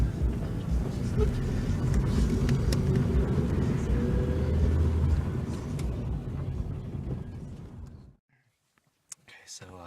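A car on the road to the Cranberry Wilderness gives off a steady low rumble of engine and road noise for several seconds before cutting to near silence with a couple of small knocks.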